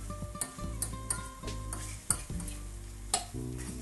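Eggs with salmon and red onion cooking together in a pan, a soft steady sizzle broken by several sharp clinks and scrapes of a utensil against the pan, with faint musical tones in the background.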